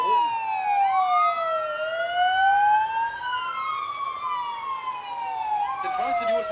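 A fire engine siren at a fire station open house, wailing loudly and continuously in long rising and falling sweeps, with several overlapping tones close by.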